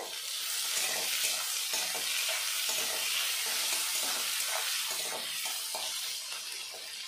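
Onions and tomatoes fry with salt in a pan, a steady, close sizzle that runs unbroken throughout, with faint stirring scrapes and no talking.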